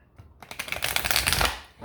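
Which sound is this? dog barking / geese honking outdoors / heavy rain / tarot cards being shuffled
tarot cards being shuffled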